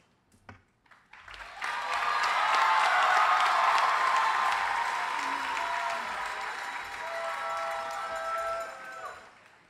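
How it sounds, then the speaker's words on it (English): Large crowd applauding at a college convocation, swelling after a few scattered claps into loud, sustained clapping with some cheering that slowly eases while staying strong. "can we give another round of applause to this amazing leader who gave such wise advice?"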